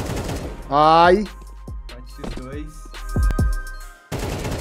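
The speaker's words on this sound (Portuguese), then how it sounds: "Que tiro difícil." Gunfire from the video game Counter-Strike 2 sounds as several sharp shots and a short burst, mixed with game effects and excited commentary voices talking over the action.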